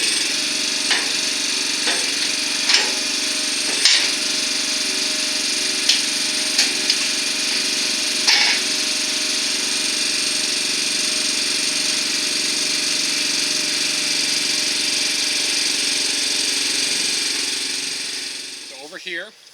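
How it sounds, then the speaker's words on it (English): A hydraulic reel gun cart on an Evergreen Watermaster irrigation reel swinging into position, heard as a steady mechanical engine-like drone with a few sharp clanks and knocks along the way, fading out near the end. "We'll go ahead and we'll swing that cart into position."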